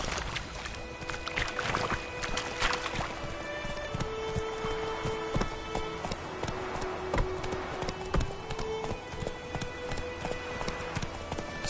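Horse hooves clip-clop steadily at a trot while riding in The Witcher 3 video game, a rhythmic clatter over ambient game sound and a soft musical score, fairly close.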